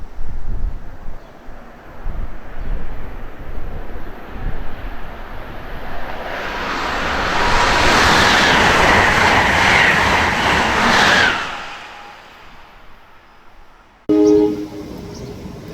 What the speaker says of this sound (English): Another Amtrak train, this time the Acela.